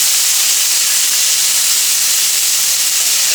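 Seasonal vegetables with garlic sauce sizzle hard in a pan over high heat, a loud, steady, close hiss that fills the whole stretch without a break.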